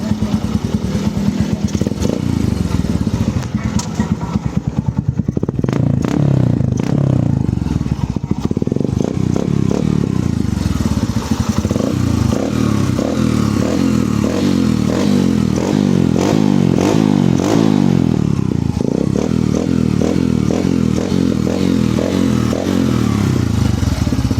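A motorcycle with a custom exhaust idles with a loud, throaty note, then revs repeatedly in sharp bursts, close and continuous.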